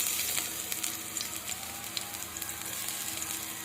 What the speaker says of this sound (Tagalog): Lagyan na natin yung bawang, sibuyas.